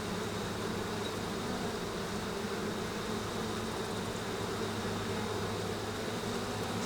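Honey bees drone in a dense, constant buzz at an opened hive, steady and close with no breaks, loud and alone without voices.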